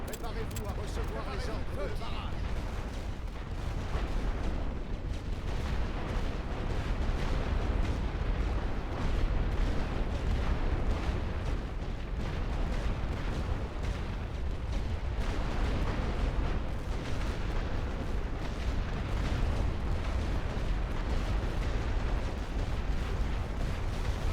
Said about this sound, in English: Drop some artillery on them, quick.